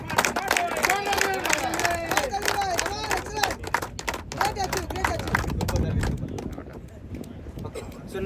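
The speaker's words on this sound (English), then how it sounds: "Please give me a round of applause." At a cricket league trophy ceremony, a crowd claps and cheers over loud, overlapping voices and shouts, with rapid clapping scattered through the noise before it thins toward the end.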